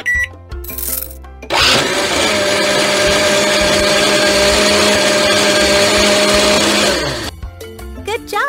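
A blender in a kids' video game whirs continuously for about five seconds while making a raspberry drink, loud and steady, framed by short game chimes and effects before and after.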